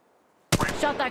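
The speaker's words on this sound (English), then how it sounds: "Shot that cargo bot." Automatic weapon fire in the mobile game Apex Legends, aimed at a cargo bot, bursts in abruptly after a near-silent moment as a rapid, loud volley of shots lasting to the end.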